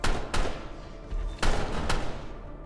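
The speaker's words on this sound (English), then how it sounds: "I'm not sure if I'm shooting him or, like, the stuff through him" Gunfire in the Roblox video game Parasite, several sharp close shots in quick bursts with short gaps between them, fairly loud and alone.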